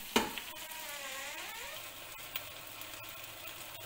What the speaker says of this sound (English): Let your liver and onion cook very slowly.